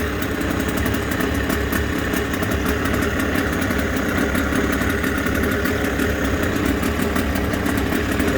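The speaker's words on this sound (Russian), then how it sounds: "Мотор вообще четко работать стал." A Suzuki DT outboard motor fitted with a Chinese carburetor from a walk-behind tractor runs steadily at idle, a continuous even buzzing putter heard close and loud with no talking.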